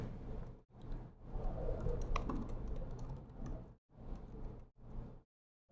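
Rapid keystrokes on a computer keyboard during a live coding demo at a software conference, coming in dense bursts separated by brief pauses, close and clear with no talking.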